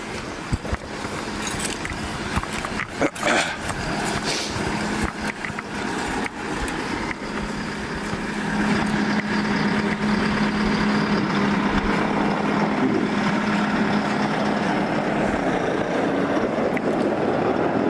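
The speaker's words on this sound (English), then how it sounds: "let's move out of the way so the tractor can get in" A tractor rolls in along a small road at an ice art championship site, a steady engine rumble and idle building up and holding louder in the second half amid scattered outdoor clatter.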